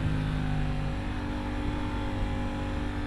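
An Aprilia Tuono 660 motorcycle accelerates with a loud, continuous engine roar whose pitch shifts as it pulls, heard close and alone for a few seconds.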